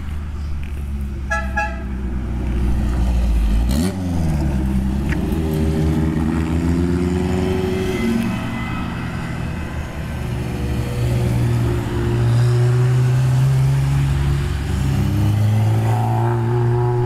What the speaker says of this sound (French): on va assister à un rallye historique qui se fait le Ventoux